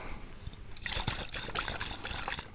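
Liquid pours and trickles onto a metal lid in a steady, close splashing stream, a continuous wet patter after a quieter start with no talking.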